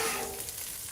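A steak sizzles briefly on a hot Blackstone griddle as it is pushed aside, a close, steady hiss.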